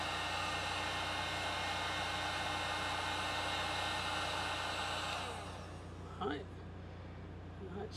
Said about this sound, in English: Love this heat gun.